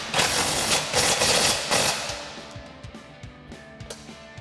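A 13mm socket tightens a nut on a Jeep Gladiator JT Borla exhaust, first a burst of loud, fast whirring from a power tool, then a series of quieter clicks and short ratcheting taps, heard close.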